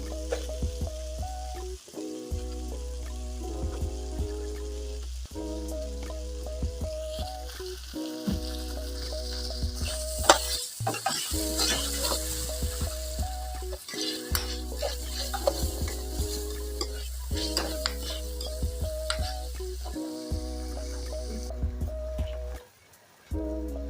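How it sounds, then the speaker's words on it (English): Carrot stir-fried in a pan as a spring roll filling, with a steady sizzle and repeated stirring scrapes and clinks over a constant low hum. "I'm adding my carrot."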